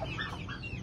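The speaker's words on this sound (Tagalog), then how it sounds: "Ayan, so daming manok oh." Native chickens cluck softly in a brief burst, several birds close by amid low background noise.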